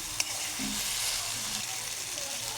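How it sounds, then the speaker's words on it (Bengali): Potatoes are stir-fried in a pan for an egg and potato curry, giving a soft, steady sizzle with light stirring scrapes and one brief clink near the start. "এখন আমি সবগুলো আলু দিয়ে দিব। দিয়ে এটাকে আমি একটু কষিয়ে নিলাম।"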